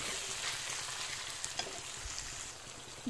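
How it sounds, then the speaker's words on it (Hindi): Onion frying in a pan with ground coriander and salt makes a continuous bright sizzle, close and even, with a couple of light stirring knocks and no voices. "इसी में हम मसाला डाल देंगे ये पिसा धनिया एक चम्मच और नमक है स्वाद के अनुसार इसको भी हम इसी में डाल के अच्छे से भून देंगे"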